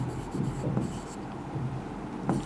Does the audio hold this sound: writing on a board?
yes